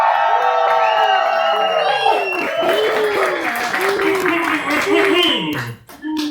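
An audience at a live book reading in a bookstore cheers loudly, whooping and shouting with some clapping mixed in. The noise stays strong, then briefly drops near the end.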